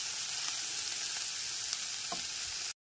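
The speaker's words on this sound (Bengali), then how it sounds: "গ্যাসের ফ্লেমটা এখন আমি লো টু মিডিয়ামে রেখেই সমস্ত মশলাটাকে খুব ভালো করে কষিয়ে নিচ্ছি" Tomato, onion, garlic and spices sauté over a low-to-medium gas flame in an Indian-style masala, giving a steady soft sizzle with faint stirring, quiet and continuous before cutting off abruptly.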